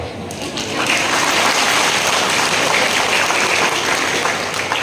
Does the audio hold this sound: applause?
yes